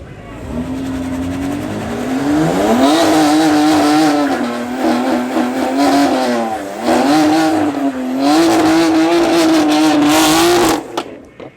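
A BMW race car accelerates hard down a drag strip at Midvaal Raceway, its loud engine note climbing and dropping through several gear changes over about ten seconds.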